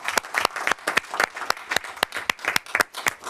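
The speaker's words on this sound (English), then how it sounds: "Let's give them another nice round of applause," Applause at a school board meeting, with a small group clapping unevenly. The sharp individual claps come through distinctly at a moderate level, with no talk over them.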